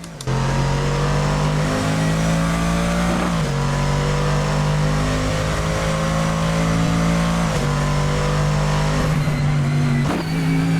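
A Mercedes race car engine roars hard on the circuit, holding a loud, steady high-rev wail broken by quick upshifts every few seconds, close and alone.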